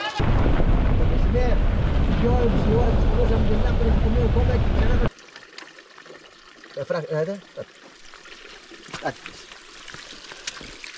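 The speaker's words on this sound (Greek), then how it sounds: "Το νερό αυτό είναι συνεχόμενο." Water from a village supply pours continuously into a tank, a loud, close, steady rush that fills the first five seconds, then cuts off to quiet with only faint scattered sounds.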